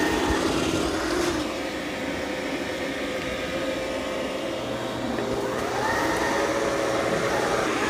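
Dreame L40 Ultra robot vacuum mopping and vacuuming a floor with dried muddy paw prints, giving a steady, close whirring hum with a shifting tone that changes pitch partway through.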